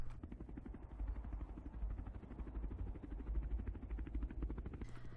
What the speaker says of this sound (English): So it kind of just sounds like a regular real-life helicopter